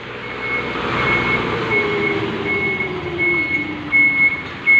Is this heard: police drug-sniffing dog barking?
no